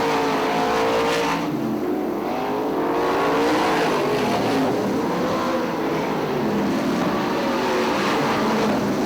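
Sprint race cars in a heat race at Fremont Speedway roar continuously, loud engine drones rising and falling as several cars pass and circle the track, with no talking.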